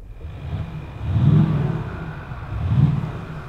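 A Maserati engine in normal mode revs twice in smooth swells, a deep rumble rising and falling over a steady idle, heard up close.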